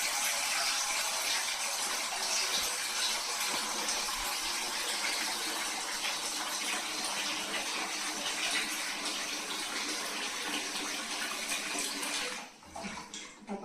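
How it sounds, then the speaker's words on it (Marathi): Water gushes steadily from a tap into a metal vessel, a loud continuous rushing pour that runs for about twelve seconds before cutting off abruptly near the end, with no talking. "आपण याच्यात पहिला पाणी भरून घेऊयात"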